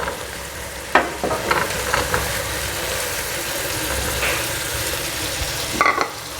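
Onion and garlic fry on low heat in a pan, a steady close sizzle with a few sharper crackles and spatters, for a restaurant-style chicken karahi; no one speaks.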